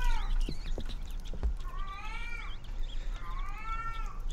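A cat meowing in the horror video game Erie, three drawn-out, wavering meows in a row, fairly close and clear over a low background hum.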